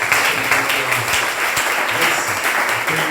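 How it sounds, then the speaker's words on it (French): A church congregation applauds for the Lord during a worship service, loud, dense clapping sustained without pause and no voices heard over it. "Est-ce qu'on peut acclamer pour le Seigneur?"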